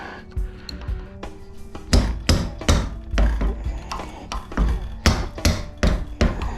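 Repeated hammer blows strike a thick brass piece clamped in a large vise, trying to drive it out of an aluminum core; a dozen or so sharp metallic impacts land at an irregular, fairly steady pace, close and loud.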